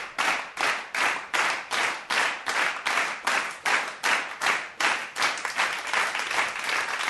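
A burst of studio applause greets someone entering a radio studio, with loud, dense clapping rising and falling in quick rhythmic waves for about seven seconds, without talk.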